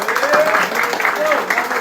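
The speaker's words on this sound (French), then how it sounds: "Vous pouvez vous applaudir." A brief burst of audience applause at a dog beauty contest, the clapping mixed under a speaking voice that continues over it.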